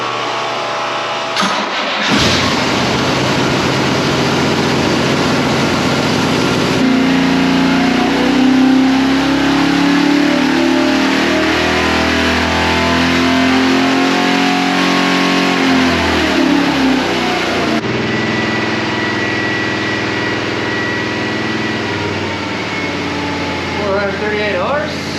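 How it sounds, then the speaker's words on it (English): A Chevy 454 V8 boat engine with oval port heads, hydraulic flat tappet cam and headers roars loudly and steadily on a dyno, its pitch climbing as it revs up through a long sustained pull before cutting back down. "Chevy 454 on the dyno, oval port heads, hydraulic flat tappet cam, running headers."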